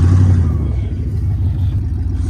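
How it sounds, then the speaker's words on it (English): A Dodge doing a burnout on plywood, its engine revving hard in a loud, steady roar with a deep low rumble that holds throughout, close by. "Oh, plywood burnouts. Always work well."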